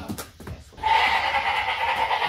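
A goat bleats loudly at close range in a dairy farm milkhouse at milking time, a sustained, wavering cry following a few short rustles and thumps.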